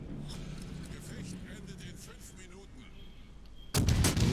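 A German destroyer's test shot in World of Warships Legends: one sudden, loud broadband blast near the end, preceded by low rumbling game ambience with a voice talking.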